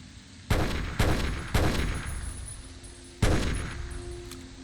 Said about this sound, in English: What the hell is he shooting at?